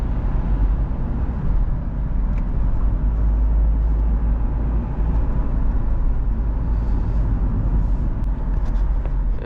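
Steady road-traffic rumble inside a Honda City on an early morning drive to Kollimalai, a dense continuous low roar of engines and tyres with no talk.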